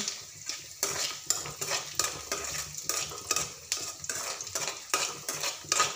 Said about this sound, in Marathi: आपले शेंगदाणे पण छान असे मस्त थोडा वेळ शिजू देऊया